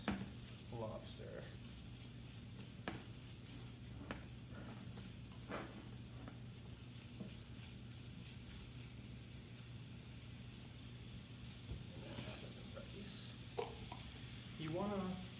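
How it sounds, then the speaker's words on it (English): Rice sautéing in a pan with garlic and shallots for lobster risotto, a steady low sizzle with occasional scraping stirs, fairly quiet and continuous. "You want to saute the rice into the risotto before adding any liquid, but you don't want to brown the rice."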